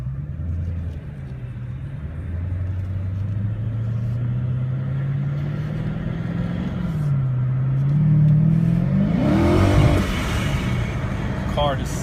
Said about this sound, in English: Supercharger sounds absolutely awesome, especially when it releases air as well.